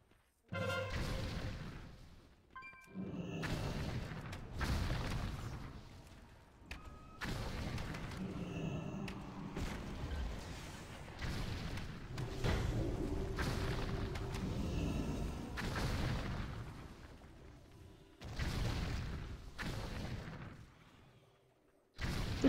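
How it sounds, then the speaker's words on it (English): Heavy cannon blasts and booming impacts from a battle in a video game, a dense, continuous barrage of loud thuds and crashes with short gaps, filling most of the stretch. "take out the guys on the cannons that are shooting at us"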